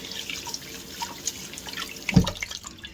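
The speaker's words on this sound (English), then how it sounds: "Rinse it off." Washed-flour seitan dough being rinsed under a tap: running water and drips splash close by, and a sharper slosh arrives near the end, with no talking.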